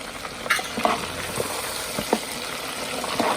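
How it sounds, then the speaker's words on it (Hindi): Chicken strips deep frying in hot oil give a continuous bubbling sizzle with occasional sharp clinks and scrapes of a utensil against the pan, close and steady with no voices. "बाकी का जो चिकन है वो भी दिखाती हूँ, वो भी फ्राई हो रहा है।"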